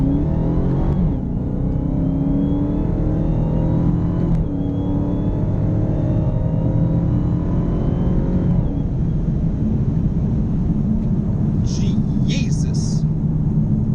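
A car with paddle shifters accelerating in Florida sunshine, a steady loud engine roar that climbs in pitch through the gears, close and continuous with brief shift breaks.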